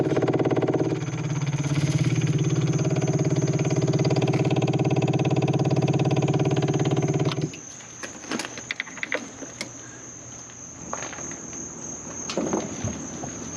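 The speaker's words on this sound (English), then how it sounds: "I am going to now use the primer, make sure the fuel pump works" The new fuel pump on an Onan 4000 generator in a Class C motorhome buzzes steadily and loudly while priming for about seven seconds, then cuts off, leaving faint clicks and handling noises.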